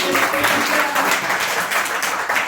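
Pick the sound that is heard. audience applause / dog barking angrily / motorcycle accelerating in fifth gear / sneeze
audience applause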